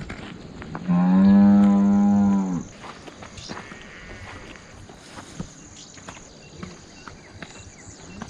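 Water buffaloes resting on a relative's farm field in a Maharashtra village give one long, loud, close moo that lasts over a second, with quieter rural background noise after it.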